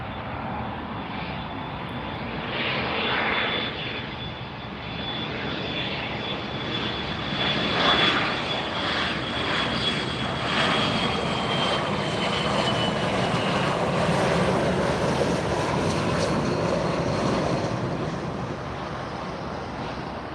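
An airliner passes at Miami International Airport, its jet engine roar swelling and holding broad and loud for most of the stretch before easing slightly, with some wind buffeting on the microphone and no talk.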